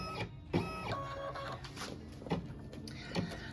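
An embroidery machine stitches a Kimberbell Be Mine heart design, its needle clattering in quick repetitive bursts with louder periodic thumps, close and moderately quiet throughout.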